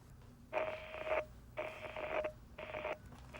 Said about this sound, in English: Interference. Yeah, battery's playing up.